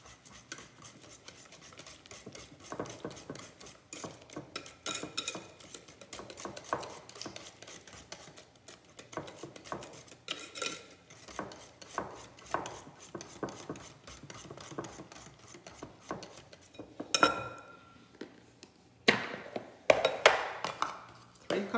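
A utensil stirs brown crystal sugar into banana bread batter in a bowl, making a soft ongoing scrape and clink with occasional louder knocks against the side, while a voice speaks now and then.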